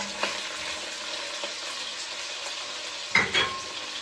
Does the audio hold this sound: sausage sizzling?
yes